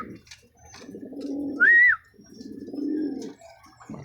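A racing pigeon back from a 75 km training flight from Majayjay, Laguna gives one short, clear coo partway through, over a low, steady rustle and background noise.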